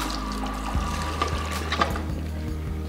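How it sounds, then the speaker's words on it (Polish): Running water rinses a hair mask out of hair at a salon sink, a steady close hiss and splash with a low hum and some thumps beneath, no voices. "Z początku spukam maskę."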